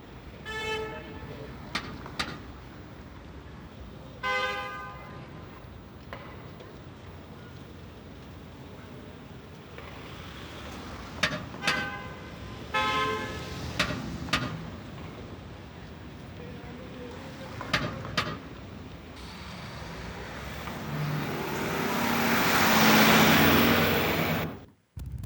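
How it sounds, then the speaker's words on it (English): A traffic recording carries repeated car horn toots, some short and some held, over a low background rumble of passing vehicles, building to a louder swell of traffic noise near the end. "We have the traffic"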